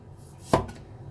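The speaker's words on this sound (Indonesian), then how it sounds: "yang di sini bawang putihnya mau aku cincang" A single sharp knife chop through garlic on a cutting board, one close thud against faint background hiss, with no talking.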